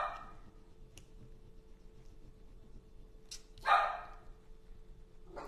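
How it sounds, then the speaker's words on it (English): A small dog barks in a nearby home, one loud bark burst standing out over a low steady hum, with faint fainter yips before and after. "Oh, there goes my pup."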